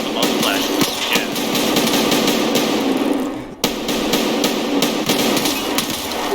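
Dense bursts of gunfire in the shooter game Escape From Tarkov, rapid cracking shots from a distance, with a brief lull in the middle and someone talking anxiously over the top.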